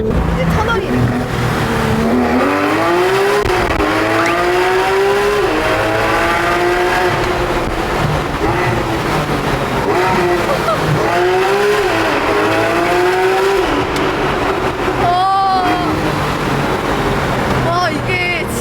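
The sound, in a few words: Porsche GT3 RS exhaust roar while accelerating in a tunnel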